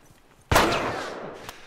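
A single sharp enemy gunshot in The Last of Us video game. A sudden loud crack with a trailing echo, then a second fainter shot a moment later, with no talking.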